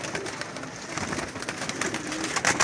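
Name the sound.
Ferozpuri pigeons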